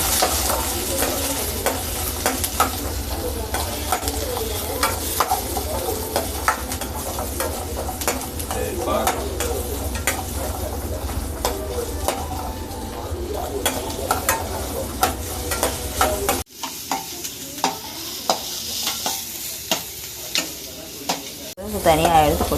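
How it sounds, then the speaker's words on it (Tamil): Garlic and onion sautéed in oil for Tamil poondu kuzhambu, a loud steady frying sizzle with frequent spatula scrapes and stirring clatter close by, easing briefly near the end before resuming. "எண்ணெய் ஊற்றி பூண்டு வெங்காயமும் வதக்கிக்கலாம்."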